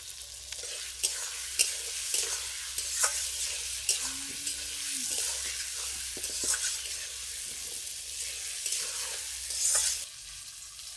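Fried vegetables and boiled potatoes sizzle in a pan while a spatula stirs and scrapes in repeated sharp strokes over a constant frying hiss, with a low hum underneath.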